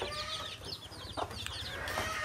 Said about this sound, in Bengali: এখানে একটা মুরগি আছে মা সহ, বাচ্চা সহ।